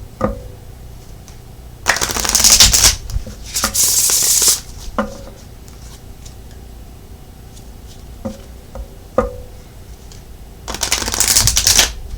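Several quick bursts of a deck of tarot cards being riffled and bridged, close up, separated by quiet pauses with faint tapping.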